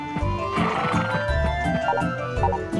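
Horse in the video game Harvest Moon: Save the Homeland giving a loud, bright whinny over a looping game melody, with soft clip-clop hoofbeats beneath.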